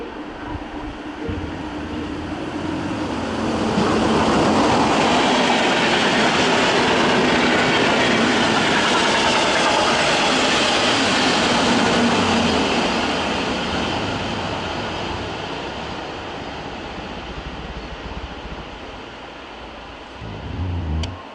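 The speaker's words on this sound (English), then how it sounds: "And here's another Alex train." An Alex regional train rolls into München Hbf, a broad rumbling roar that swells over several seconds, holds loud and steady with faint wheel clatter, then slowly eases off, with no voices.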